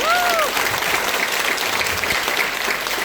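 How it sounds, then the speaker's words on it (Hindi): Loud, dense applause from a large crowd fills the room, steady and sustained throughout with no pauses. "एक बार हमारी लेडीज़ के लिए जोरदार तालियां"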